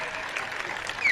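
Audience at a live comedy show clapping together, a brief dense burst of applause that swells slightly toward the end.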